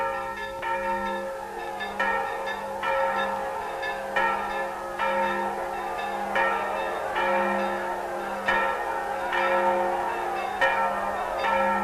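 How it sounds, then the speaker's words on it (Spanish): Church bells ring at the Carmelite convent of San José in Ávila, with repeated strikes spaced about a second apart over a sustained hum, moderately loud and heard alone. "las campanas del nuevo convento carmelita de San José anunciaban a los abulenses"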